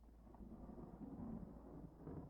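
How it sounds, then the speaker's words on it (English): Low, distant thunder rumbles steadily through a stormy meditation soundscape as wind picks up before rain, a soft continuous roll with no talking. "You can hear thunder in the distance."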